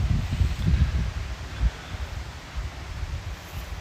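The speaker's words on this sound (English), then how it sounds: "It got windy all of a sudden." Wind gusting and buffeting the microphone with low rumbles in a park, with a faint rustle of leaves in the background.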